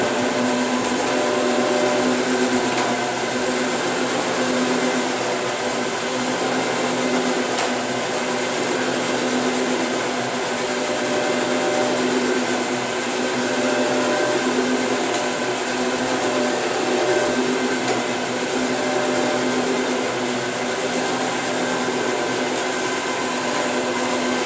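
A carpet extraction machine runs in a steady, loud, unbroken roar with a high whine on top, close by and constant throughout, with no talk.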